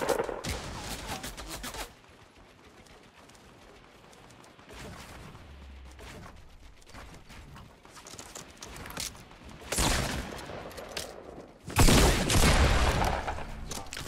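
Gunfire in the video game Fortnite: rapid bursts of automatic shots in loud clusters at the start and again near the end, separated by quieter stretches.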